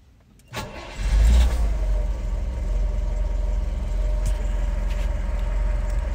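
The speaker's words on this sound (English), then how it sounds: "Starts beautifully, starts well this one, whether it's hot or cold." A 1967 Citroen DS 21 Pallas engine cranks briefly and catches, then settles into a steady, even idle heard close up and alone for several seconds.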